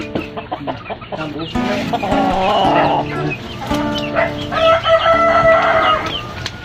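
A Rhode Island Red crossbreed native chicken clucks loudly and close, breaking into a drawn-out crow, while a person speaks briefly over the calls.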